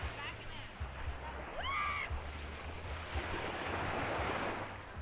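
Surf washing onto a beach in Aruba, a steady broadband rush of breaking waves with wind buffeting the microphone, a brief chirp-like sound near the start and low rumble running throughout.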